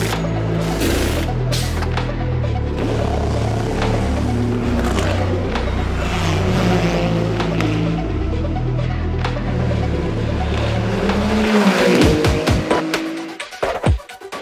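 A Toyota race car in the WEC race at Monza roars at high revs with rising and falling engine pitch as it passes through gear changes, loud and close, then cuts off abruptly near the end.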